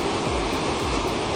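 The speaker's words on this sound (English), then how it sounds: "Attempting a risky river crossing, this fuel tanker is now trapped in the heart of a raging flood." Raging flood water churns steadily around a fuel tanker trapped mid-river, a dense, continuous roar of rushing water with no break and no voices.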